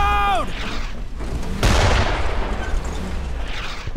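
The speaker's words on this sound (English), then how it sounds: "Mortars! Incoming!" Mortar shells burst in a Brothers In Arms wartime scene: a heavy, loud blast lands with a low boom and a spray of debris, followed by lingering rumble and noise.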